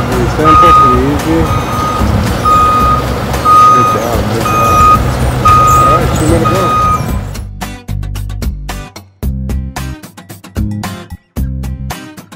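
Repeating reverse-alarm beeps over a heavy engine drone as a forklift takes a car off a car-hauling truck in Los Angeles, then the beeping stops and irregular clunks and knocks follow, loud and nearby.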